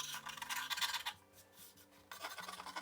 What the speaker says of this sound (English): I carefully scrape off in the areas where I had applied the wax